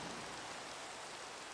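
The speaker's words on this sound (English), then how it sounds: "It's daytime, but it's raining" Steady, dense rain hiss in the Minecraft video game, a continuous broadband wash of falling rain with no breaks, heard alone.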